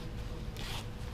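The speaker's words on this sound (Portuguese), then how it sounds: "Zíper." A zipper on Cordura motorcycle trousers is pulled in a single quick rasp, close and fairly loud against a low background rumble.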